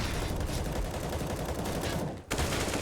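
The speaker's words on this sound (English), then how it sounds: "Another 60 bullets through the smoke" AK rifle gunfire fired through smoke in a CS:GO match on Vertigo: dense, rapid automatic shots in a sustained loud burst, a brief gap near the end, then firing resumes.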